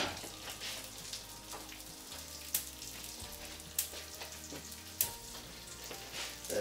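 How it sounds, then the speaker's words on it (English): Apple fries in a pan over medium to high heat with lemon juice and a little water, giving a steady close sizzle with occasional sharp pops and clicks, and no talking. "you can see now this is starting to fry up."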